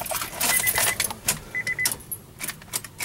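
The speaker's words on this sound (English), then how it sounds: "You put the key in the ignition." Keys jangle and scrape as a key goes into a Honda car's ignition and turns, with short metallic rattles and a few brief chime-like tones, close and clear.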